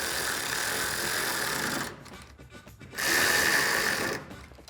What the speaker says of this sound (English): Now we can hold this still and tighten it down.